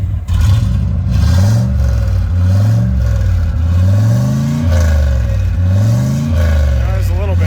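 A car engine revs repeatedly as the throttle is blipped, each surge rising in pitch and falling back. The revs are loud and close, with a rattling clatter and voices talking over them.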